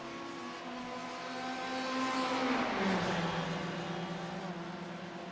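A race car in a racing video game sweeps past on the Monza circuit, its engine tone rising as it closes in, then dropping in pitch as it passes by and fades, loud and steady with no voices.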